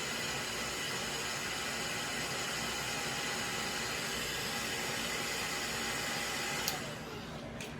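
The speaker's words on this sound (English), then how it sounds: "Just gonna heat up the plastic a little bit with my hair dryer." A hair dryer heating a plastic action figure gives a steady, loud broadband blowing roar throughout, close to the mic, with a brief click and a slight drop in level near the end.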